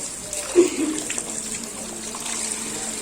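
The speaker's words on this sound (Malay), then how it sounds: "Jadi kita nuci ya ngau bersih, ngau air ke bersih." Fish being washed in clean water: soft splashing and running-water noise close by, with one brief louder slosh early on, then a quieter steady trickle.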